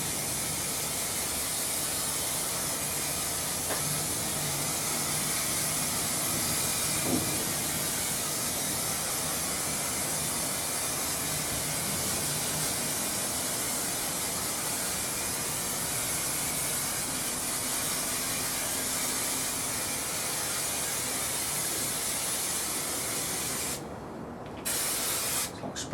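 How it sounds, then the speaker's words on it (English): An aerosol can of spider-web spray adhesive sprays continuously onto a car interior panel during a DIY retrim, a loud, steady, close hiss that lasts about 24 seconds and then cuts off briefly near the end. "Spraying spider web."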